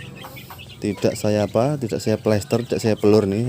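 Chickens cluck in a sand-floored coop where chicks of different ages are kept together. The clucking is close and mixed under someone talking steadily throughout.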